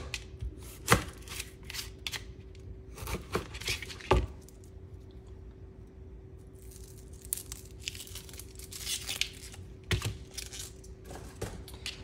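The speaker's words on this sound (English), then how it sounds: "So we're gonna start by cutting our onion in half." A knife slices an onion into thin rings on a board, with crisp cuts in irregular bursts, some sharp, close-up chops standing out over a steady background hum.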